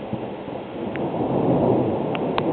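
Thunder from a June lightning storm over Cambridge City, Indiana rolls as a long, continuous low rumble, fairly loud and broad, with no talking.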